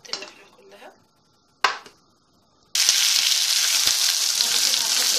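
Veal meat sizzling loudly in hot ghee with mastic in a pan, preceded by a couple of brief clatters, then a steady, dense frying hiss that continues to the end.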